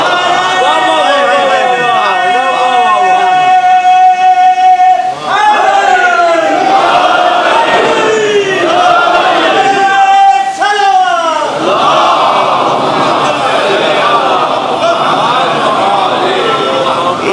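A large crowd at a Muharram gathering in an imambargah shouts a religious slogan in unison, loud and close, with sustained, repeated chanting surges that fill the whole stretch.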